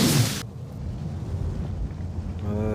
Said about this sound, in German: Das klingt aber, als würde eine Bombe explodieren.